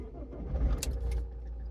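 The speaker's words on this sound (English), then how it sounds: "It started. Sounds okay." An Alfa Romeo MiTo diesel engine cranks and catches, then settles into a steady low running rumble, close by with no talking.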